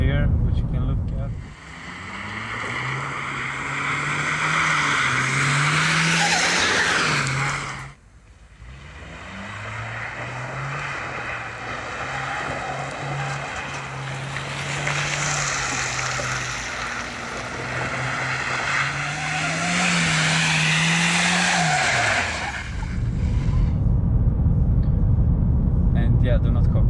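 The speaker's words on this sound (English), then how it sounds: "I have a drifting video of it here, which you can look at." A Volvo 940 car drifting, its engine droning loud and close as the revs rise and fall in long sustained sweeps, cutting off briefly near the eight-second mark and stopping before the end.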